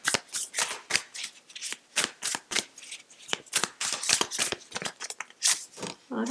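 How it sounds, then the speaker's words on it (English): Tarot cards being shuffled by hand in a steady run of crisp, close riffling bursts with short pauses between them, no voice over the top. "Let's get out an overarching tarot card"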